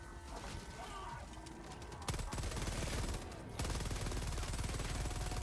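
Rapid bursts of Stalwart machine gun fire in the Helldivers 2 game: sustained fast-rate automatic shooting that grows louder in two steps, with dense repeated shots filling the whole stretch.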